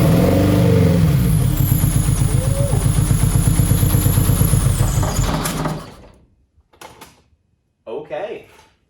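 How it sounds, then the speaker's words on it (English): A Honda S2000 AP1 engine cranks loudly and continuously for about six seconds with fuel sprayed in the throttle body, then cuts off, leaving brief scattered noises and a short burst near the end. "we're just going to turn it over just to see if it starts"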